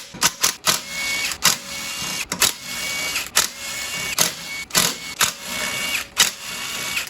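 A ratchet or hand tool loosens camshaft bolts on a Chevy Cobalt cylinder head with the cam still in place, giving sharp metallic clicks and clacks in irregular bursts, close and fairly loud, with no talking.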